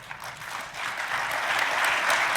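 Audience at a CPAC 2011 conservative political conference breaking into applause, a dense sustained clapping that swells slightly louder toward the end.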